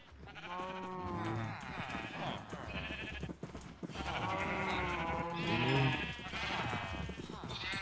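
Minecraft sheep bleat repeatedly in the video game, wavering nasal cries overlapping one another at close range, loud and continuous with little pause.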